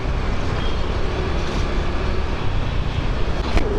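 A metro train rumbles near a Mumbai metro station beside the Western Express Highway, a loud continuous low roar of traffic and rail noise with a brief high whine near the end.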